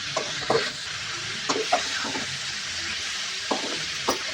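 Potato, carrot, onion and tomato sautéing in a pan, with soft scraping stirs at a few points over a steady low sizzle, close and fairly quiet.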